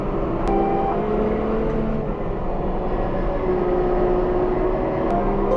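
A farm sprayer vehicle driving up a road, with loud, steady engine and road rumble throughout and no talking.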